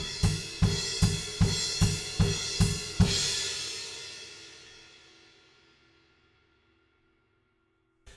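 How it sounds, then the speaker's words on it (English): Drum kit ending a rock song with eight quick, evenly spaced heavy hits of kick drum and cymbals, then one final big crash cymbal that rings out and slowly fades to silence. "we just amp up the kick drums a little bit, and then we finish on a nice big crash cymbal"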